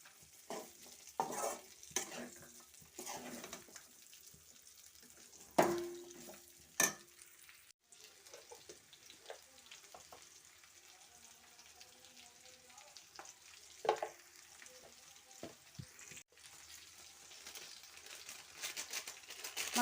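Broad beans (flat chikkudu pods from a home garden vine) frying in a pan, a soft low sizzle with intermittent scraping stir clatters and a few sharper knocks of a spatula against the pan.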